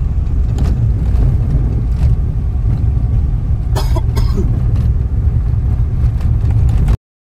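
A car drives along the road toward Veer Dam in Satara, its steady engine and road rumble continuous and close, with a few brief knocks and rattles partway through before cutting off abruptly.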